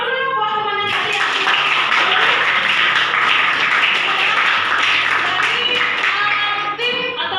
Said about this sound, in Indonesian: Tepuk tangan dulu ya buat teman-teman kalian.